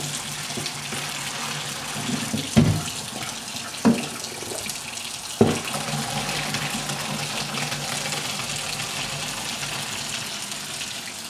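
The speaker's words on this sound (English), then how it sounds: "I have cold water running." Cold water runs steadily from a kitchen tap into a sink during home cooking, a constant close gush with a few dull knocks and clanks of a strainer in the sink.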